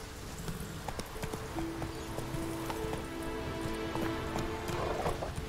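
Hoofbeats of the horse Roach galloping in Witcher 3, a steady rapid clip-clop running throughout, close and prominent over a layer of ambient game sound.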